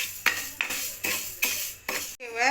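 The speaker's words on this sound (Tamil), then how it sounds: "இதை வந்து சட்டி போட்டு கொஞ்சம் வறுத்து எடுப்போம்" Grains roasting in a pan for sweet milk pongal, stirred with a utensil: several distinct scraping, clinking strokes spaced about every half second, close and fairly loud, with a faint steady hiss underneath and no talk.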